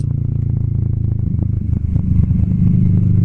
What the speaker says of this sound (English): if you're not into the sound of this Ninja, then you're probably not gonna like the Vulcan S.